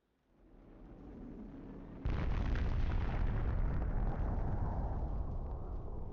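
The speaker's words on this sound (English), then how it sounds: "fire its cruise missile at Ramsgate" A cruise missile launched from a submarine in Civilization 4, heard as a rising rumble that breaks into a loud, sustained explosion roar close up, then rolls on without easing.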